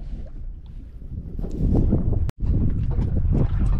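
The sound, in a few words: strong wind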